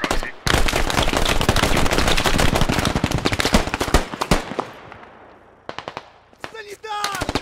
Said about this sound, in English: Is that machine gun placement?